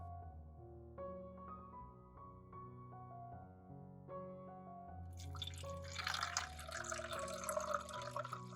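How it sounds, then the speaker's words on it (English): Water poured from a container into a plastic spray bottle for watering plants, a soft trickle under quiet background music that builds into a brighter, louder splashing fill toward the end. "Open the lid of the spray bottle and pour in the water."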